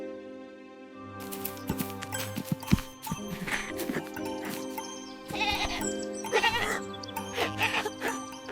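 A goat bleats several times in wavering, nasal cries, mixed with hoof clopping and scuffling, fairly close and loud without speech.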